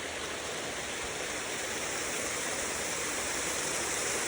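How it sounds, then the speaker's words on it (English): Water rushing down a woodland stream in Annalong Wood, a continuous, close, broadband roar of flowing water with no pauses and no voices. "you see the water coming down the stream"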